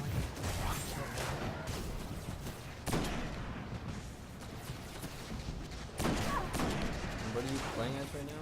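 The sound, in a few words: sniper rifle gunfire in Destiny video game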